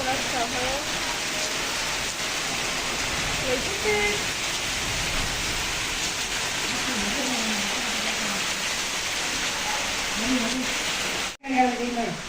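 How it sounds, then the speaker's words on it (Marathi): A constant wash of heavy rainfall fills the scene, loud and unbroken, while someone speaks quietly beneath it; a short gap interrupts near the end. "बाहेर पाऊस एवढा जोरात पडायला आहे"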